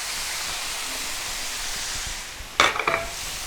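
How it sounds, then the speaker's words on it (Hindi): Chicken sizzles and fries in a pan with spices and yogurt. A steady hiss runs throughout, and near the end brief louder bursts of stirring and spattering come through. "अच्छी तरह से हमने इसको चिकन के साथ भून लेना है।"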